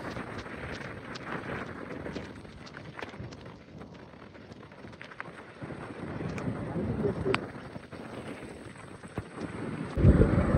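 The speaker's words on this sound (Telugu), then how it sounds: "గాలి అయితే బీభత్సంగా కొడతా ఉంది చూడండి." Strong monsoon wind buffets the microphone near a large waterfall in rain in Coorg, a steady rough roar that swells louder toward the end, with no clear voices.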